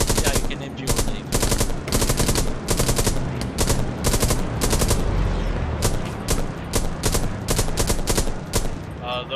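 A machine gun fires in Hell Let Loose, the round on Sainte-Marie, in loud, steady, rapid bursts of shots with short gaps between them, continuous throughout.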